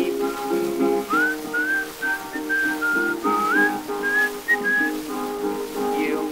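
Melodic whistling of a jaunty tune on a 1925 old-time song recording, a clear sustained whistle sliding between notes over a steady instrumental accompaniment, prominent and continuous with no singing in this stretch.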